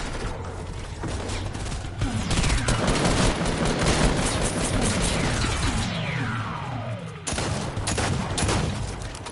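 Gunfire in the Fortnite battle royale game comes as loud, rapid bursts of shots with clattering impacts and a short gap near the end before another volley.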